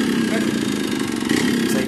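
A motorbike engine near Rewa runs close by with a steady low hum and slight revving swells, and faint voices may sit under the mechanical drone.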